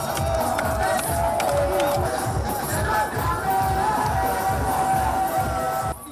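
A large crowd at a presidential rally in Kani department, Côte d'Ivoire, roars and cheers continuously, a dense wash of many voices with rhythmic chanting underneath, cutting off at the end.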